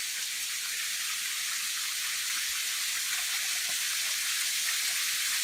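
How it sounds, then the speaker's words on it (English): A waterfall in Kentucky's Red River Gorge rushes in a constant broad hiss, steady and fairly close, with no voices. "And a second waterfall."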